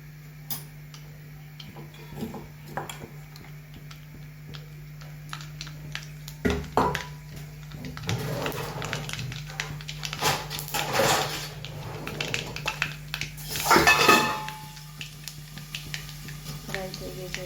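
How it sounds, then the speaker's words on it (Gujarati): Mustard seeds crackle and spit in hot oil as a tempering for okra, a scattered run of small sharp ticks and pops with louder flurries partway through and near the end, over a low steady hum, with a voice speaking at times. "રાઈ એડ કરીએ."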